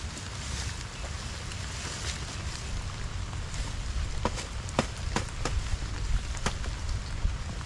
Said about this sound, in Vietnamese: Mưa từ sớm tới giờ luôn.